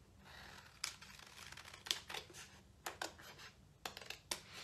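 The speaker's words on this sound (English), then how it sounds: "I'm going to take my scissors and I'm going to cut this out" Scissors snip through folded paper while cutting out a bunny stencil, a series of quiet, crisp cuts and crinkles at irregular intervals, close and faint with no talking.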